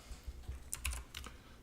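Computer keyboard keys are pressed for Ctrl+X followed by F or B shortcuts, a quick run of about half a dozen quiet, close clicks spread over roughly a second.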